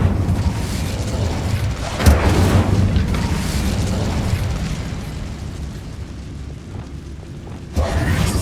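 A fiery Incendiary spell cast in Hogwarts Legacy inside an abandoned mine, giving a loud blast at the start followed by a sustained roaring burst that fades, with a second sharp hit near the end.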